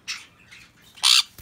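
A sun conure parrot gives harsh squawking calls, a short squawk, a couple of fainter calls, then a loud piercing shriek, all close and clear with no talking.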